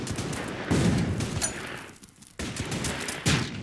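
Artillery fire on the town of Gdynia in the strategy game Order of Battle: Kriegsmarine, heard as a dense fusillade of loud, overlapping shots and booms. There is a brief lull partway through, then the barrage resumes.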